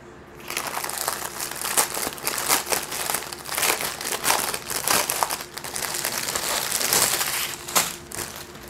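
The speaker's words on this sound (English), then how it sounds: "if you're sensitive to the sound of the bag opening" Continuous crinkling and rustling of plastic, loud and close, as a bag is pulled and wrestled open for several seconds without pause.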